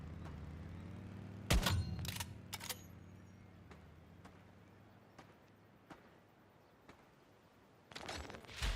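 Gunshots in the survival shooter Once Human, a tight cluster of loud sharp bursts early on, then scattered fainter single ticks and a final pair of bursts near the end.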